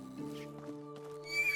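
A horse whinnies in the medieval life-sim game Medieval Dynasty, a short neigh over a steady ambient game hum and soft background tones, rising at the end.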